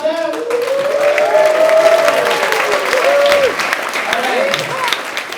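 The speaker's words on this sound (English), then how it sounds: "So can we have a round of applause starting on this side and going all the way across" An audience at a growth hacking event claps for a speaker taking the stage, a dense sustained applause with a voice speaking over it throughout.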